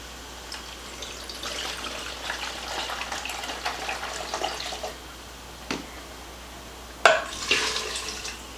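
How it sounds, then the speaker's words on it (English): Two cups of wine are poured into an Instant Pot for beef bourguignon. A close liquid stream splashes for several seconds, pauses, then returns with a sharper splash near the end. "Then I'm going to pour in 2 cups of wine."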